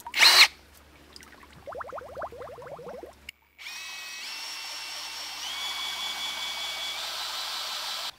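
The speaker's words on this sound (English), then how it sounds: "I'm going to connect my drill down here" A power drill priming a water pump whirs in short bursts, then settles into a steady high-pitched whine that runs continuously, close by and moderately loud.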